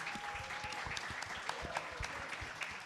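Audience applause at a live show, a steady wash of many hands clapping with some sharp, louder claps standing out near the front, continuing throughout without talk.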